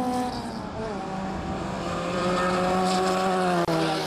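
Fast cars at a city festival car show in Riga give off a continuous loud engine roar with a wavering drone, close and constant, broken by one brief dropout near the end.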